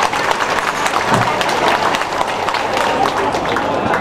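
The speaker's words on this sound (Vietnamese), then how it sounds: "chúng ta cùng chào mừng nhau một tràng vỗ tay thật lớn để khai mạc chương trình của tối ngày hôm nay" Audience applause opening an evening cultural programme for a Vietnamese church choir association, a dense, loud wash of clapping that fills the space throughout without a break.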